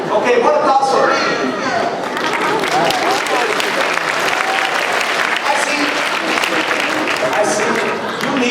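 Applause from an audience at a science show rolls on steadily up close. Dense, continuous clapping carries some cheering and voices within the crowd.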